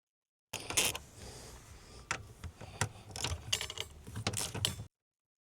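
A 15mm socket ratchets and clicks while front seat bolts are removed from a Jeep Cherokee WK2 cabin, giving irregular close mechanical clicks and creaks with no talk.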